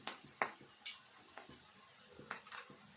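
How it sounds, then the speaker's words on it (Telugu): Onions frying in oil in a pan with turmeric added, a soft background sizzle broken by a few clinks and scrapes of a spoon stirring against the pan. "పసుపు వేసుకుందాము. ఈ ఉల్లిపాయ కొంచెం వేగంగానే"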